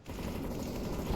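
Sustained, dense gunfire in the CS:GO video game, a continuous rapid burst of shots at steady loudness throughout, with no talking over it.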